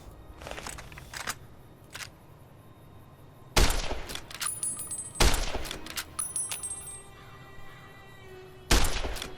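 Rifle shots ring out at sarsaparilla bottles on a fence in Fallout: New Vegas, with sharp, loud cracks spaced seconds apart and bright glassy ringing after some hits, separated by quiet ambient gaps.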